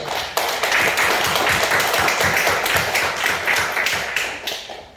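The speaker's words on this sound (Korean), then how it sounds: "박수로 하나님께 영광 돌리겠습니다." A church congregation claps together during a worship service, a dense, rhythmic patter of many hands that stays steady and fairly loud throughout, with no speech over it.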